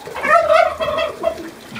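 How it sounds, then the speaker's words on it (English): Farm birds calling close by, a run of throaty gobbling and clucking notes over about two seconds with no talking. "chickens and special birds here"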